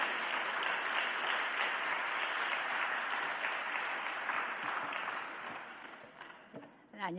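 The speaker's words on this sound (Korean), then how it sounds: "어머니 박수하겠습니다." A church congregation applauds steadily at a Wednesday evening worship gathering, a dense wash of clapping that holds for several seconds before thinning and fading out near the end.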